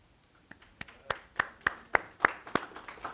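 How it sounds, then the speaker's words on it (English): A small group of people clap for mothers standing during a church service, starting with a few scattered claps that build into a sparse, fairly quiet run of distinct claps about a third of a second apart. "we'd like to give you a round of applause"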